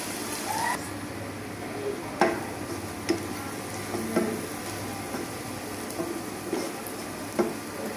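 Onions sizzling in a pan for shutki bhorta, a steady low frying hiss broken by light ticks and clinks of a spoon stirring against the pan, fairly quiet and close.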